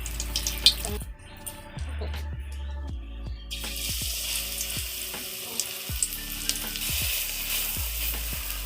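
Onion frying in hot oil in a home kitchen pan, a continuous loud sizzle punctuated by repeated stirring scrapes and clicks at a steady pace, with no talking.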